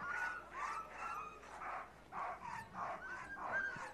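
Alaskan husky sled dogs at the Iditarod race start bark and yip in repeated excited bursts, several dogs close by over a steady outdoor background, with no talking.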